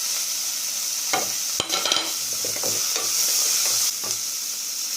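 Chopped small shallots sauté in a pan with a continuous close sizzle, cut by several sharp spatula knocks and scrapes scattered through.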